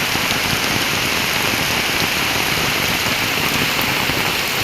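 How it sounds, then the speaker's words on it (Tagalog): Heavy monsoon rain pours down without letup, a dense steady hiss of drops on surfaces, loud and unbroken with no other sounds above it. "Grabe ang ulan, walang puknat, walang tigil ang ulan sa habagat."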